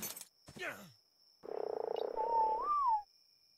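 A frog in the video game ARK: Primal Fear croaks in a rapid buzzing rattle, then a longer rising warble, loud and alone after a few short game sounds.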